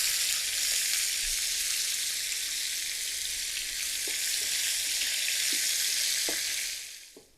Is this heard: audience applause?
no